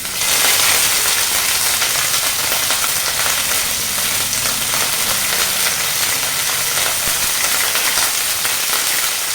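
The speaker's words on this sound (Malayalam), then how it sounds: "കടുക് പൊട്ടിക്കഴിഞ്ഞ് അതിലോട്ട് ഇച്ചിരി വേപ്പില," Mustard seeds and curry leaves sizzle in hot coconut oil, tempering for a raw banana curry: a loud, steady, hissing fry that runs unbroken for several seconds with no voices over it.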